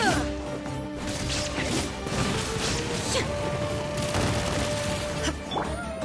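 Rapid bow and arrow shots in Genshin Impact come in quick bursts of sharp impacts and crashes, loud over continuous game music and effects.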